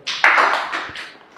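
A short burst of clapping from a small group, a few sharp claps in quick succession that fade out within about a second.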